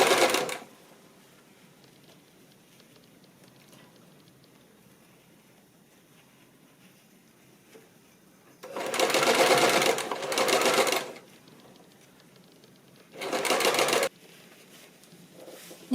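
Two rapid bursts of a sewing machine stitching trouser waistbands together, loud and close, separated by a quiet room with no talking.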